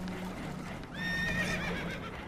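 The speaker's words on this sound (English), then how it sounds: "Horses are spooked, and we're taking on water" Spooked horses whinny aboard a leaking boat in the Red Dead Redemption 2 video game, one shrill neigh rising clearly over a steady low rumble and splashing water.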